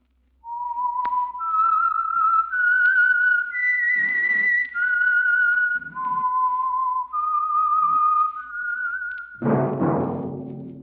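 A clear, solo whistled melody of sustained, sliding notes, close and steady, ending with a short burst of fuller sound.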